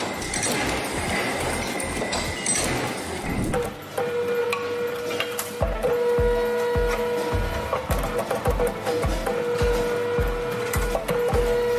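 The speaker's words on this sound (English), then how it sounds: "5 mechanical parts move in synchronicity to bind the links in a heavy-duty chain." Heavy-duty chain links are formed by a factory machine whose five mechanical parts move in step, producing a loud, steady run of rhythmic metallic thumps and clanks over a constant mechanical hum, with no talk.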